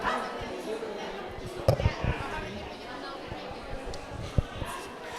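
A dog at a shelter adoption event gives a couple of short, soft barks or yips amid a busy, noisy room with background chatter, the sounds brief and somewhat distant.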